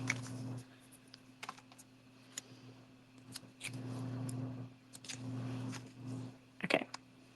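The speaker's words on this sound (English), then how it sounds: "So I'm going to come in, cut behind, and then I'll do the same, cut behind." Scissors snip through paper kit pieces in short repeated bursts, some quick crisp clicks and longer rustling cuts, close and fairly quiet over a steady low hum.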